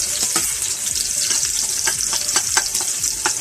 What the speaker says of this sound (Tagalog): Okay, init na ang atong mantika or oil. Butangan na nato ning ahos.